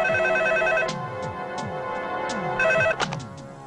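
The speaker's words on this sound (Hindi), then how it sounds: "टोनी का फोन है" A telephone rings in a home with repeated electronic trilling bursts, each a short warbling ring separated by brief gaps, loud and close and heard alone without speech.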